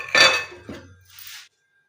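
Metal clanking as a pressure cooker lid is set on and pressed shut, a bright scrape followed by a softer clink and a brief hiss.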